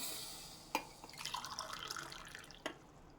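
Soft trickle of water pouring into a pot for dal khichdi, framed by a couple of sharp knocks, quiet and close.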